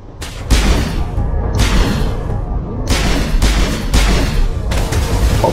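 Gunfire in the sci-fi shooter game Mass Effect 1 on the planet Feros: a few heavy, booming shots spaced out over a steady action soundtrack, loud and close, with no talking.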